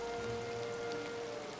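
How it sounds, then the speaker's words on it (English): Rain falling in the video game Dreamlight Valley, a brief, even hiss of steady rainfall with no voices. "it's starting to rain again"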